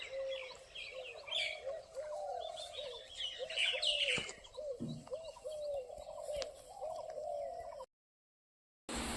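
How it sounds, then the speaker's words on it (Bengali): Several birds call from nearby trees, repeated cooing and chirping phrases overlapping, fairly close, before cutting to silence near the end. "গাছে গাছে পাখিদের রব সকাল সকাল শুনতে পারছো তোমরা"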